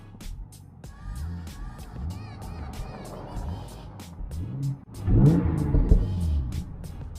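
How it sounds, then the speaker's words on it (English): A Genesis Coupe engine with Borla exhaust and test pipes, in race mode, revs up and down in quick repeated bursts, with sharp crackling pops between throttle blips, intake noise, and a louder surge near the end. "there is popping and as well as the intake noise"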